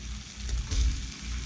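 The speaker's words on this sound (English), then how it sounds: "we're going to place these pieces in the pan, and we're going to let them cook" Salmon fillet slices fry in a sauté pan with a steady, close sizzle that swells briefly midway, with no talk over it.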